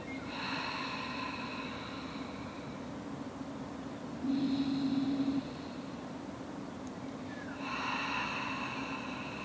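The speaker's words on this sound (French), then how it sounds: "J'expire, j'ouvre." Slow, audible exhalations in a relaxation breathing exercise, soft airy rushes recorded close, with a steadier breathy stretch in the middle and another long breath out near the end, with no talking.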